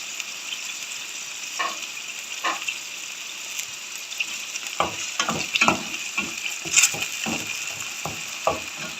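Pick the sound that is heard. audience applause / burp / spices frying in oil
spices frying in oil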